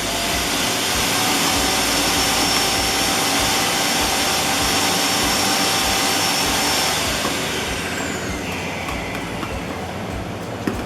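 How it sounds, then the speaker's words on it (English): Robot vacuum cleaner running in a home kitchen, a steady loud whirring and rushing drone with faint clicking that eases slightly near the end, continuous and close, with no speech. "Oh, sorry about the vacuum."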